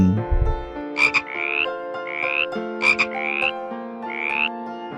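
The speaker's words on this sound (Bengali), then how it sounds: "ব্যাং" A frog croaks repeatedly in pairs of short bursts followed by longer rising calls, clear and near, over a steady musical backing with no speech.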